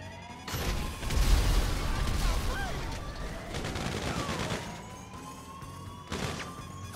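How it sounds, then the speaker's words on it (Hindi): Gunfire in the video game GTA 5 crackles in dense, rapid bursts over a noisy game soundscape, with occasional louder cracks standing out, and no one speaking over the shooting. "गोली आ रही है इधर से भी कहीं से"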